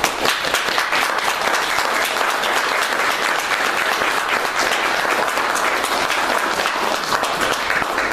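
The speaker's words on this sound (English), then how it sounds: "let us give um, Dr. Barry, and all of the National Center of African American Artists a big round of applause" Sustained, loud audience applause at a Kemetic Renaissance celebration, dense steady clapping that fills the whole stretch without pause.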